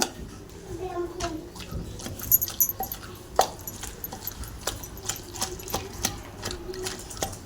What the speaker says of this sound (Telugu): ఈ విధంగా అయితే మెత్తగా అయితే దంచాను ఫ్రెండ్స్